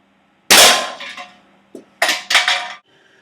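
Dragunov rifle fired indoors at a metal can, a loud blast followed by clanging ringing hits and metallic rattles, several sharp impacts close together with a resonant clatter and no talking.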